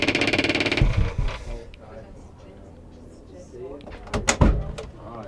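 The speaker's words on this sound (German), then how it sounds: "Wenn du mal so lieb bist, die Tür mal aufmachst, ja." Door of a converted 1965 Saurer OM camper bus opening, a sharp knock and rattle near one second after loud talk, then quieter handling noises with a second clunk around four seconds, close by amid speech.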